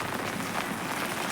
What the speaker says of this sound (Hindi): सर्व तरफ आप देखेंगे तो बारिश है